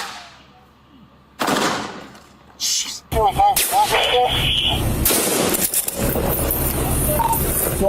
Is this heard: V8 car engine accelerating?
no